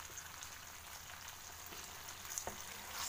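Prawns frying in a pan for a tomato sauce dish, a steady soft sizzle with light crackles running throughout, a few sharper pops near the end, no voices.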